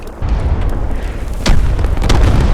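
A 120 mm mortar shell bursts near the surface, a sharp heavy boom around the middle with a second rumbling blast trailing after it, loud over continuous low background noise.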